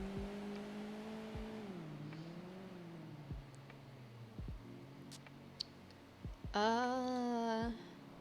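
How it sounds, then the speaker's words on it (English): Modified video game cars' engines rev and drop in pitch with a few sharp clicks, then one engine roars loudly for about a second before cutting off. "does it sound like there's more souped up cars around?"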